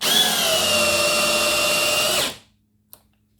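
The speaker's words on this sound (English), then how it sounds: "Drove the screw fairly efficiently." A Milwaukee Gen 4 drill drives a 6-inch screw into wood with a loud, steady whir lasting about two seconds, then spins down and stops, followed by a faint click.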